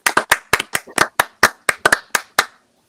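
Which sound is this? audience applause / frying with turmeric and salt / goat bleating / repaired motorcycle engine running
audience applause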